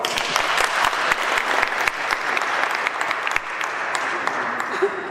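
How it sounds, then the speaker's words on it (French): A crowd applauds loudly and steadily at an interreligious peace prayer gathering in Côte d'Ivoire, dense clapping filling the whole stretch and tapering slightly near the end. "On l'acclame très fort."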